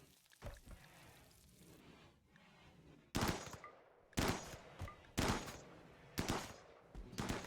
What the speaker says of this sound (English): Hunting with an assault rifle is a little bit extreme